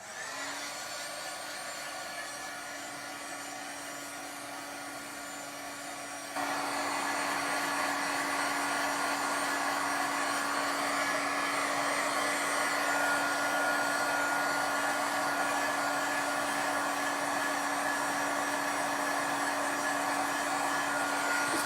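A hair dryer runs steadily to dry ink on a gel-print craft project, a constant whooshing drone that grows louder and fuller partway through and continues without pause.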